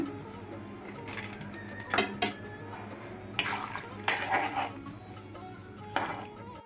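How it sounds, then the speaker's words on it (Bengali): Mango pickle is stirred in a pan, with a spoon scraping and clinking against the metal in several short bursts over a low steady background hum. "ভালো করে নাড়িয়ে নাড়িয়ে করতে হবে"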